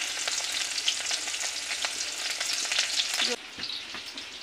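Onions fry in a hot pan with a dense, steady crackling sizzle, close and continuous, softened by occasional stirring, then dropping slightly quieter near the end.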